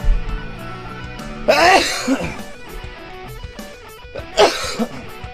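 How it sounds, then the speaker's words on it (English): Two sharp sneezes, spaced a few seconds apart, over a quiet background with faint tonal music. "I got some sneezes"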